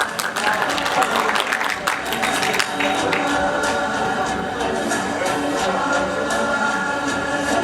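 Audience applause fills a certificate ceremony hall, steady dense clapping throughout, loud and close, with scattered sharper claps near the start.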